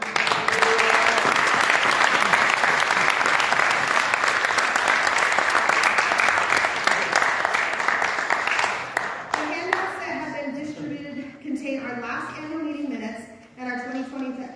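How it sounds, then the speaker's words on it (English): Loud, sustained applause from a community theatre audience at an awards night in La Junta, a dense wash of clapping that fades after about nine seconds as a voice begins talking over the thinning claps. "Let's give them a round of applause."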